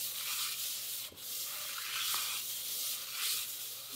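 An engine cylinder head is rubbed back and forth across sandpaper taped over a glass plate to true its surface, giving close, steady gritty scraping strokes in a continuous rhythm with short breaks, and no voices.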